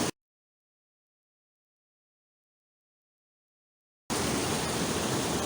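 A creek rushes through a narrow canyon, a steady broadband roar of flowing water that cuts in abruptly after a long silence and continues close and even, with no voices.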